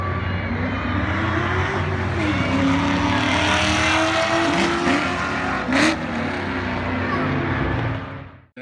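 A supercharged 2001 Bullitt Mustang roars loud and close down a drag strip against a Honda. The engine revs climb steadily through the gears with brief shift dips, then the sound cuts off sharply at the end.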